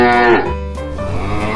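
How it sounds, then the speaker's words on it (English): A cow moos loudly and close, one drawn-out lowing call with a rising then falling, throaty tone. "Cow."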